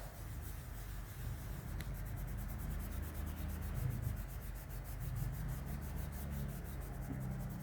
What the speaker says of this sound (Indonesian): lalu kita gosok menggunakan alat bantu tadi yaitu tisu. Gosok dia agar lebih merata dan halus